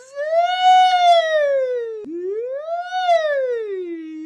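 A voice imitates a siren, gliding smoothly up and down in pitch twice, loud and close with a clear buzzing tone.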